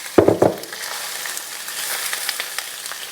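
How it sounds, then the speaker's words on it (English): Prawns going into hot oil in a stainless steel pan, with a couple of loud clattering drops at the start followed by a steady, soft sizzle and scattered pops. "we're starting to fry our prawns"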